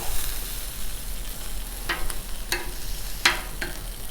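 Meat kababs sizzle on a Blackstone griddle in a steady hiss, punctuated by several sharp metallic spatula clicks and scrapes as pieces are turned, with no talk.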